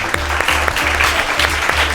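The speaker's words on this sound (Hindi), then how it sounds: "तो जोरदार तालियां बजाएं।" Children and an audience clapping on a kids' show, a quick burst of scattered, fairly close claps with a low rhythmic hum running underneath.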